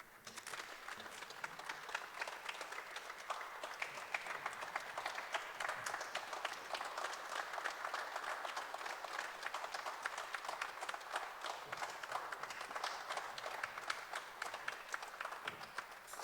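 Audience members at a district address keep up long, sustained applause, a dense field of individual hand claps at moderate loudness, continuing steadily with no speech on top.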